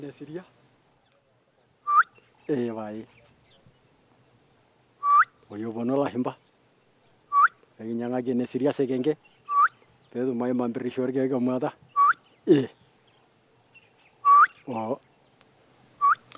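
A hunter of the Il Torobo people imitating the call of a honeyguide bird with vocal whistles and warbling trills, repeated in separate bursts with pauses between, close and clear against a quiet outdoor background.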